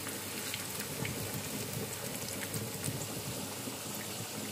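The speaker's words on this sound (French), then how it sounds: "Pour un bain de friture, on les fait dorer de tous les côtés" Potatoes deep-frying in a bath of hot oil for patatas bravas, a steady dense crackle and fizz of bubbling oil with scattered sharper pops, continuous and fairly close, with no talking.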